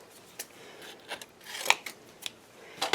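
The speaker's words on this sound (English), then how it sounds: "I'm just going to take a little piece right here. And I'm just going to snip that off." Scissors make several sharp, quiet snips at a small piece of paper, spaced out irregularly in a still room.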